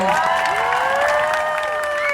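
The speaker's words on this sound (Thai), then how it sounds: "ขอเสียงปรบมือให้น้องๆหน่อย" A crowd at a festive concert event applauds and cheers for young contestants, clapping and shouts under sustained, bright musical tones that play throughout.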